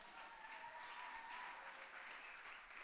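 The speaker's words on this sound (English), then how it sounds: "Give yourself a round of applause." A crowd at an Ignite Bend evening event applauds itself, a steady, even wash of clapping from many hands throughout, heard at a distance and fairly quiet.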